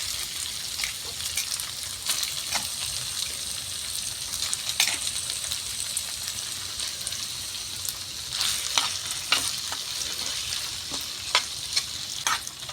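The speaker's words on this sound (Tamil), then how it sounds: "கொஞ்சம் அப்படியே தக்காளி போட்டு வதக்கி மூடி வச்சிடலாம்." Tomatoes sautéing with ginger garlic paste in a pan for an egg omelette curry, a steady moderate sizzle with scattered stirring clicks and scrapes, no talking over it.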